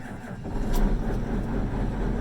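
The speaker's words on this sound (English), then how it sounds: "We're gonna fire up the tractor." A diesel tractor engine turns over and fires, then settles into a low, steady rumble heard from close by.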